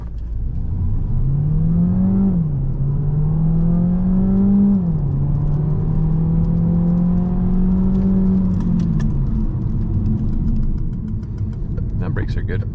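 A 2022 Peugeot 308 SW plug-in hybrid with 180 hp launches hard from a standstill, its engine note climbing steadily through two gear changes, loud and close from inside the cabin, then easing off as the car slows.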